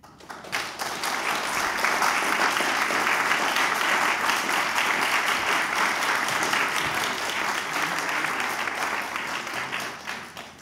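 Sustained audience applause at a public forum on Israel and American Jewish life, a dense, loud wash of many hands clapping that swells in quickly, holds steady for several seconds and tapers off.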